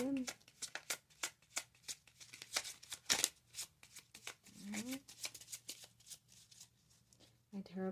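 Tarot cards are shuffled hard in rapid, irregular bursts of crisp riffling and slapping, close and clear, with a few brief voice sounds in between.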